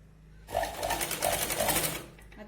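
A sewing machine runs a short burst of about one and a half seconds, stitching a katori blouse with a rapid, even needle clatter up close, then stops.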